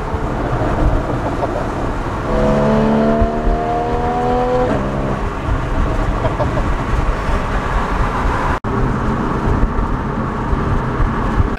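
A Porsche 981 Boxster cruises on the road, its engine a steady low hum with a brief rising tone as it accelerates, heard from inside the cabin.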